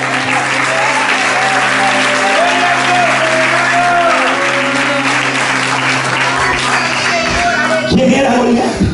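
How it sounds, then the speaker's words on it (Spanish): A church congregation at an evening service gives loud, sustained applause for the full stretch, a dense wash of many hands clapping over a steady droning tone, with no clear speech on top. "Un fuerte aplauso a Dios en esta noche."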